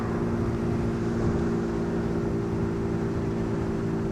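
A Yamasaki Fosti F50 50cc geared moped running, its small engine giving a steady, continuous low drone with a constant hum throughout, no speech.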